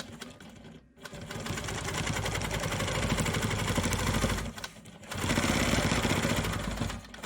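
A sewing machine quilts around the stem and leaf of a maple leaf quilt block, running in steady close bursts with a short pause near one second and another brief stop around five seconds.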